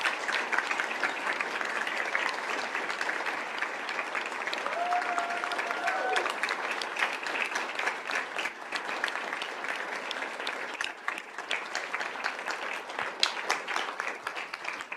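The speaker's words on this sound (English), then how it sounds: "If you could stand so we can give you a big round of applause." Sustained audience applause fills a school governing board meeting, steady and dense clapping from a roomful of people throughout, with faint murmuring voices underneath.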